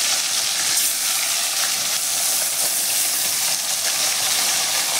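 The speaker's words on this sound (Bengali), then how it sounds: "তেল গরম হয়ে গেছে, আস্তে আস্তে মাছগুলো ছেড়ে দেবো।" Fish frying in hot oil in a wok, giving a loud, steady sizzle and hiss that runs unbroken throughout with no talking.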